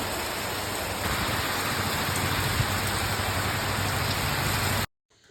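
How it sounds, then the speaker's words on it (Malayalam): Heavy rain pours steadily in a dense, even roar, then cuts off abruptly near the end. "കറി വെച്ചുകൊണ്ടിരിക്കുന്നതിനിടയ്ക്ക് ഭയങ്കര മഴയായിരുന്നു"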